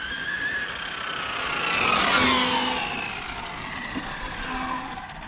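An FG Porsche in Rothmans livery has its engine run in: the engine revs up into a loud rising whine, then drops back with small stuttering cuts at the rev limiter.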